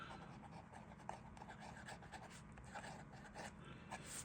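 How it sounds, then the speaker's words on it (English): Swan fountain pen, made in England, writing on paper: a faint, soft continuous scratching with small stroke accents, close but very quiet against background noise. "very smoothly, very nice, and writing okay"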